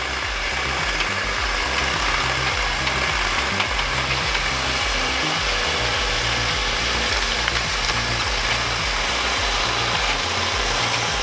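Chainsaw cutting wood with a forestry machine, a loud continuous engine drone with rhythmic pulsing throughout, close and steady with no talk.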